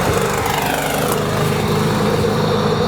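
Detroit diesel engine on an air-start AC unit cranking over with its air starter, a loud continuous rumbling churn with a rapid mechanical beat and a hissing air rush throughout.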